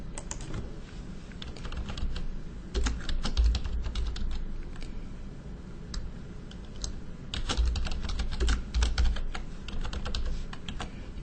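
Typing on a computer keyboard in quick irregular bursts of close, crisp key clicks, separated by short pauses, with no voices.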